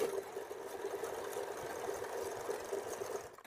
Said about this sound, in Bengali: এবার এটাকে আমি হুকের পট্টিটাকে প্রথমত হাতে এখানে মেশিনে সেলাই করে নিচ্ছি